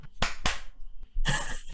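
Hand claps, two sharp close claps in quick succession followed by a broader burst of noise.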